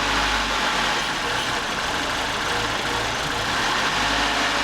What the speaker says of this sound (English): when we give it some vacuum, the engine should almost stall